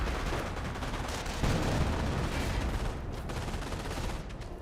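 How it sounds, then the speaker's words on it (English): MG42 machine gun firing in Company of Heroes, a dense sustained rattle of rapid bursts mixed with other battlefield gunfire, loud and continuous without a break. "MG42 firing away"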